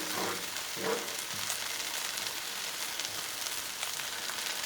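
Bacon and chicken sizzle steadily on a hot Blackstone griddle, a dense, even crackle of frying grease with a few brief pops and no voices.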